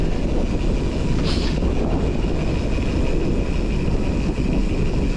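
Steady wind roar buffets a microphone during a sunny bike ride into a full headwind, a constant broadband rush with no talking.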